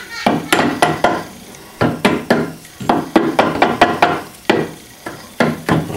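Sharp knocks ring out as someone taps on a Rockwell lathe spindle assembly, a close series of irregular metallic-wooden taps in short clusters.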